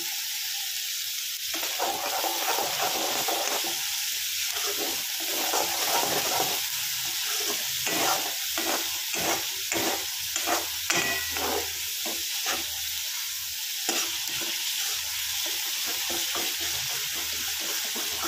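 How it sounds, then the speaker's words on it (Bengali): Masala for a pabda fish curry with onion and tomato fries and sizzles steadily in a pan, with a constant broad hiss broken by repeated scraping stir strokes throughout. "তাতে মশলাটা সুন্দর করে ভাজা হবে আর টেস্টটাও খুব সুন্দর হবে"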